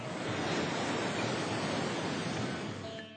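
Ocean waves crash near the Singh Dwar gate of the Jagannath temple in Puri, a loud, continuous roar of surf without a break and no voices.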